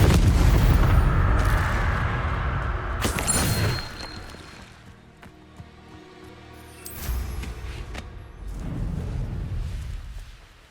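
Confringo blasting-spell explosions in the Hogwarts Legacy video game: loud booming blasts up front, a sharp crack around the middle and another rumbling burst later, fading between hits.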